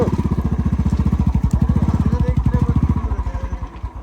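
A motorcycle engine thumps and rattles in a fast, steady rhythm close by, loud throughout and slowing slightly toward the end.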